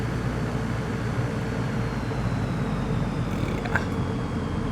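Steady, loud engine drone from a light bush plane flying over New Zealand in Microsoft Flight Simulator 2024, an unbroken broadband roar without pauses or talk.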